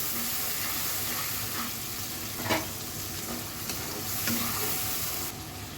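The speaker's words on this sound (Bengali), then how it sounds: "এরপর প্রপারলি মশলাটা কষিয়ে নেব।" Spice paste for a curry of shutki dried fish, jackfruit seeds and kochur loti sizzles and fries in a pan after a splash of water, with a steady hiss, occasional stirring scrapes and soft bubbling up close.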